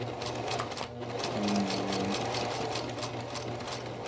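A sewing machine runs steadily, stitching fabric for a face mask with a continuous close mechanical whir and hum, pausing briefly mid-seam.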